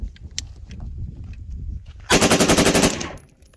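A 3D-printed AR-15 Superlower firing full auto at an outdoor range with steel targets at 50 yards: one loud, rapid burst of about a dozen sharp shots lasting under a second, following quieter background noise.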